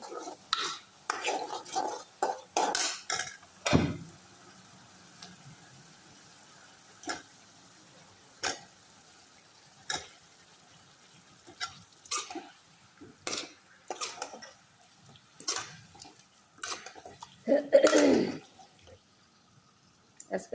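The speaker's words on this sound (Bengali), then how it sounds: "রান্না বান্না করতেছি।" Pots, pans and utensils clink and scrape in a home kitchen during breakfast cooking, scattered sharp knocks and stirring sounds spaced irregularly, fairly quiet, with occasional soft speech.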